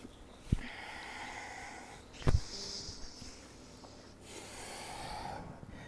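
Slow, audible breaths, with a sharp inhale near the start and another mid-way, drawn in and out through the nose while holding a downward dog yoga pose. Long airy exhales sit between them, close and fairly quiet.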